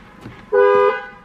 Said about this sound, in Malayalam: ഇതാണ് ഹോൺ വരുന്നത്.